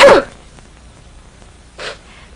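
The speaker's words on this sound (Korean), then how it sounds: "이 부분이 막히거나 자극을 받으면 재채기를 합니다." A single sharp sneeze bursts out loud and close at the very start, followed by quiet and a brief softer breathy noise near the end.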